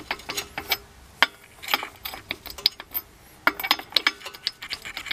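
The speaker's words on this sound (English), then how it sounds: "So I just take the plastic off of my socket here, do it by hand." A socket turned by hand on wheel spacer nuts, corroded after winter, gives irregular close clicks and ratcheting bursts, loud and alone with brief pauses between turns.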